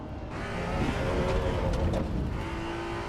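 A car engine in Assetto Corsa EVO, droning steadily at high revs with a buzzing, slightly rough tone, loud and close throughout with no talk.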